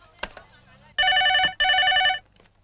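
Two bursts of an old-style telephone bell ring out loud and close in a Hindi comedy film scene, following a brief spoken exchange.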